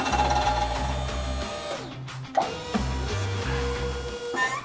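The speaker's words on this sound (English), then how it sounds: "we're now going to bleed the jack." An electric hydraulic pump runs while bleeding an Atlas hydraulic trailer jack on a dump trailer, a close mechanical hum that pulses in a steady cycle, pauses briefly midway, then resumes.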